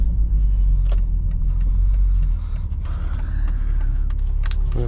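A 2006 BMW X3 3.0i drives along toward the freeway, its engine a steady low rumble close up, with faint creaks and mechanical clicks from the cabin.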